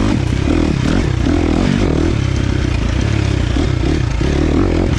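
A KTM 350 XC-F dirt bike with a tuned ECU revs hard and steadily, its engine loud and close with a constant raspy drone and some mechanical clatter.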